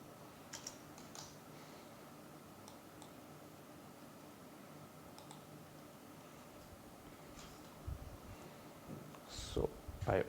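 Computer keyboard keys tap faintly and sparsely as a file name is typed, a few scattered clicks over a steady background hiss, with a burst of quicker typing near the end.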